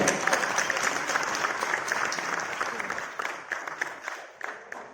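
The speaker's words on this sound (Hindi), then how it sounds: "इसलिए सब आप सबके लिए बहुत बार जोर जोर तालियां।" An audience at an election gathering applauds with loud, dense clapping that stays steady before thinning into scattered individual claps near the end.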